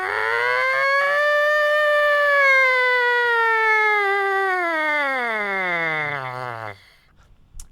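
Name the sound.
lips buzzing in trumpet mouthpiece, rising and falling like siren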